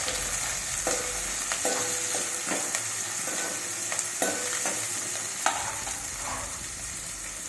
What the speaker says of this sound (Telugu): చిన్న ఉల్లిపాయ, బాగా వేయించాలి